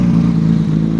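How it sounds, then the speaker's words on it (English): Porsche GT3 RS engine running loud and close, a steady deep mechanical drone held for a brief moment with no voices. "This car is loud."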